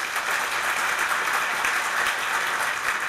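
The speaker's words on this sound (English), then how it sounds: "You guys deserve a great big round of applause for putting this on" Continuous crowd applause inside a synagogue at a community event, a dense, even roar of many hands clapping at steady loudness throughout, with no talking.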